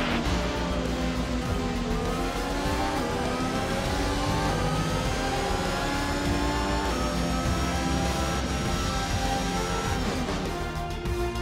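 A Formula 1 car engine in the F1 2021 video game at the Dutch Grand Prix, a steady high-pitched motor whine with rising and shifting tones as the car drives in, loud and continuous throughout.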